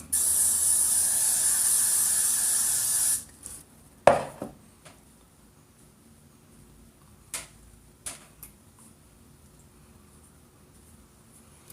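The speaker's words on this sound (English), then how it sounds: "What I'm going to do is I'm going to spray it down." A steady, loud hairspray aerosol hisses for about three seconds, then stops, followed by a few scattered light clicks and taps in a quiet room.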